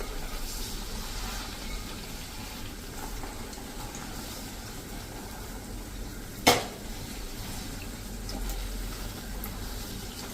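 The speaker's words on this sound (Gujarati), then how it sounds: "તો આ રીતે આપણે ચોળાફળીને તળી લેશું." Chorafali, a Gujarati fried snack, crackles and sizzles in hot oil for a steady stretch, broken once by a sharp metallic clink of a utensil against the pan.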